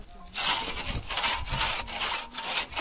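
Steady back-and-forth rasping of a hand saw cutting through frozen pond ice during an ice harvest, loud and close, in a regular rhythm of strokes.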